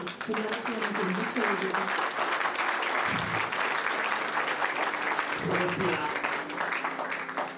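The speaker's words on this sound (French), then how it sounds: "on peut continuer à les applaudir." Sustained applause from an audience for young performers at an STK Nasionaly show, dense and steady throughout, with voices and a sung or spoken line running underneath the clapping.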